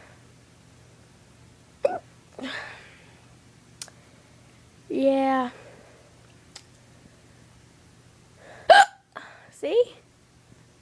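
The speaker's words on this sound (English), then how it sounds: "I've got the hiccups really bad." Sharp hiccups break out again and again at uneven intervals, some with a squeaky voiced catch, close to the microphone in a quiet room, with a person speaking briefly between them.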